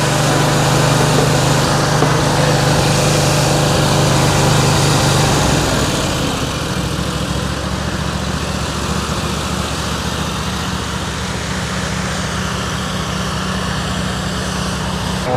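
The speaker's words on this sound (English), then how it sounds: "TQ went to go get the blower." A small gas-powered blower engine runs loud and close with a steady buzzing drone, its pitch and level dropping slightly partway through and then holding even to the end.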